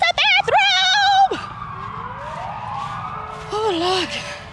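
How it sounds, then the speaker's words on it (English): Fire truck sirens wailing up and down during a Christmas parade, loud and close at first and then sweeping in long rising and falling tones as the trucks pass. "Y'all hear the fire trucks?"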